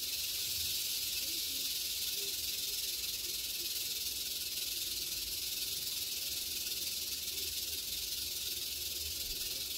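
A steady, continuous hungry cobra hiss, broad and airy, holding at an even level for the whole stretch with no pauses and no voices.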